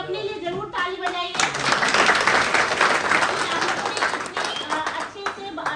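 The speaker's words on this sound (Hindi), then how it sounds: "एक बार आप लोग सब कोई अपने लिए जरूर ताली बजाइए।" Audience clapping at an outdoor cleanliness awareness event for street food vendors, a dense burst of many hands that starts abruptly after brief talk and continues steadily, loud and close.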